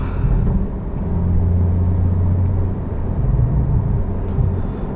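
A 2019 Porsche 911 Turbo engine rumbles loud and close, holding a steady low roar for several seconds with no voices over it.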